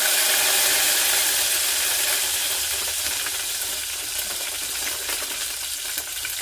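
Cumin, crushed garlic and curry leaves fry in hot oil for rasam, giving a steady, loud, close sizzle with crackling that holds throughout and eases slightly toward the end.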